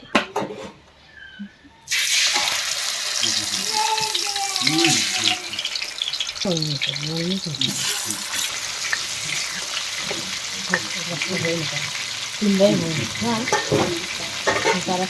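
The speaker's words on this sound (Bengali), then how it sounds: "কড়াই গরম হয়ে গেছে, আমরা তেল দিয়ে দিচ্ছি, দিয়ে মাছগুলোকে আমরা আগে ভেজে নেবো।" Tilapia fish fry in hot oil in a wok, giving a loud continuous sizzle with stirring and scraping, while someone speaks intermittently over the cooking.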